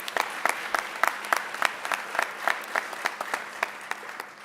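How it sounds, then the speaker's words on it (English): A crowd at an MLK tribute claps for young people, each clap sharp and distinct in a fairly regular rhythm, moderately loud and continuing without letup. "I want to give another round of applause to the young people"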